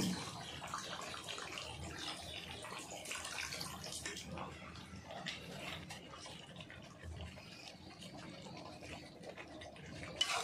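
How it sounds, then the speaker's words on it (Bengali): Water is poured into a pot of Bengali chicken kasha as it cooks, making a continuous close splashing gush that lasts about ten seconds. "জল দিয়ে দেবো।"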